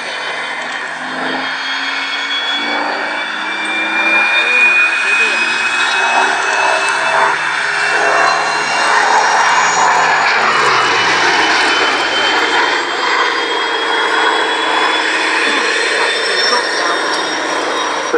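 An FB-11 fighter-bomber flies at a Shuttleworth naval airshow, its piston engine roaring loudly and steadily with a slowly shifting pitch, while a commentator talks over it.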